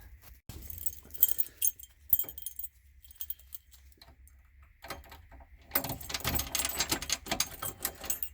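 Keys for a Chevrolet Corvair Lakewood jingle and clink close by in short bursts, then a longer rattling jangle toward the end.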